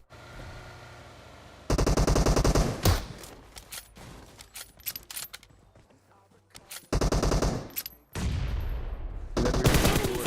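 Bursts of automatic gunfire from the mobile battle-royale game PUBG Mobile, loud and close, with rapid rattling volleys separated by quieter gaps and scattered single shots, no talking.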